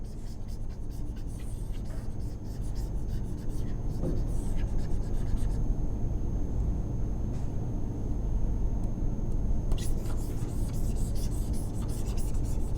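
A teacher writing on a board during an online maths lesson, steady scratchy strokes in short bursts that rise and fall, close and fairly loud, with a brief pause near the middle.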